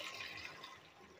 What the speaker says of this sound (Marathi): ह्याच्यामध्ये आपल्याला गरम पाणी टाकायचं आहे।